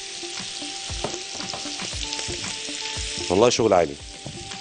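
Beef fillet sizzles in butter in a pan on a gas stove, giving a steady close crackle with sharp spatters and a stirring flurry near the end, while someone talks over it.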